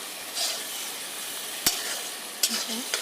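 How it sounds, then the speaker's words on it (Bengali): A ginger and cumin spice paste is stirred and fried in a pan for a Bengali rui fish curry, with a quiet steady sizzle, a few sharp scrapes of the spoon and faint clicks. "ভালো করে মশলাটাকে কষিয়ে নেব।"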